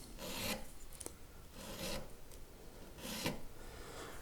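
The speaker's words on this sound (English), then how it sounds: "I will go in with a smaller, finer file and just kind of take any little file marks out." A fine file rasps over guitar frets on a Thinline Telecaster build, smoothing out file marks in three close, fairly faint back-and-forth strokes with a small click between, no talking.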